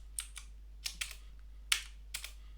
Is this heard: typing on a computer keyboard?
yes